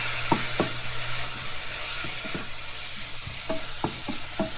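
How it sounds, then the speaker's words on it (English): A spoon stirs a pan sauce of ketchup and Worcestershire over a gentle sizzle, scraping and tapping in short, irregular strokes close by, with no voices. "I stir it a little"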